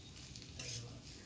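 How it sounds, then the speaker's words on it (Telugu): Sprouts are stirred into sautéed onion pieces in a pan for a quick lunch-box recipe: a short, close scrape of the spoon over a soft sizzle, with no one speaking. "ఉల్లిపాయ ముక్కలు కొంచెం మగ్గిన తర్వాత స్ప్రౌట్స్ వేసుకొని బాగా మిక్స్ చేసుకోవాలి"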